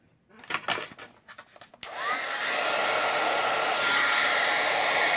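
A heat tool blasts steadily while heat-setting embossing on rainbow greeting cards, a loud continuous hot-air roar that switches on after a few soft handling clicks and holds for the remaining seconds.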